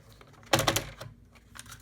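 Paper pockets for a tall folio being cut at a 2.5 inch mark, one short crisp cutting snap up close followed by faint rustling.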